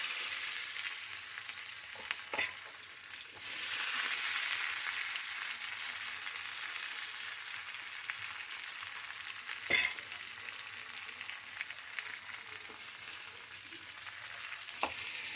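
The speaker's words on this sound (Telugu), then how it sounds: "పోపు పెడుతున్నాను ఇప్పుడు." Tempering for tomato dal sizzles in hot oil as a continuous bright crackle with a few sharp pops, close up and without talk.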